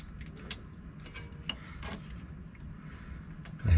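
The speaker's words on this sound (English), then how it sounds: "run these back down before I tighten them up" U-joint bolts on a front driveshaft at the axle being run down by hand, close quiet metallic ratcheting and scraping clicks in an irregular series, ending with a louder low thump.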